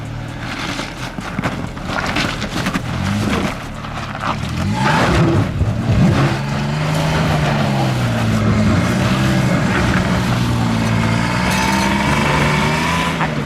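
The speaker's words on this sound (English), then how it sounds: "Skidding and burning rubber against the rocks while standing still, the Pathfinder stops trying to conquer this obstacle on its own." A Nissan Pathfinder strains against a rocky hill climb, its engine droning and revving steadily while the tires spin and skid on the rocks, loud and close, rising after a few seconds and holding.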